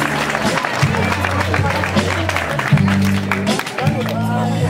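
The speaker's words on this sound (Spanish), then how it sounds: "Un aplauso, por favor" Guests at a quinceañera applaud, a broad wash of clapping and crowd noise over loud music with a steady bass line.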